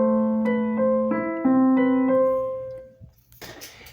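Piano playing a gentle rocking eighth-note figure, sustained notes alternating back and forth for a few seconds before fading, then a brief noisy rustle at the end.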